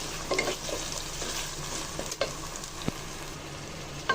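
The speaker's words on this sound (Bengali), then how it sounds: "মশলার সাথে ভালো করে নাড়াচাড়া দিয়ে মিশিয়ে নিয়েছি" Beef tehari with ground spices being stirred and fried in mustard oil, home-style Old Dhaka cooking: a steady close sizzle broken by occasional scrapes and knocks of the stirring spoon.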